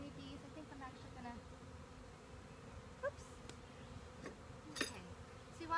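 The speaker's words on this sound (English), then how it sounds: "so I've got bees kind of in the way" Faint, steady buzzing of bees close by, low and continuous, with a few soft knocks and rustles over the quiet background.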